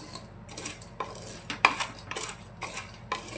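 Black chickpeas dry-roasting without sand in a pressure cooker over a high gas flame are stirred with a metal utensil, giving close, irregular scraping clinks and rattles against the pot, with no one speaking.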